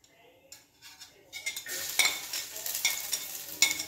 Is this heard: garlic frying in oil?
yes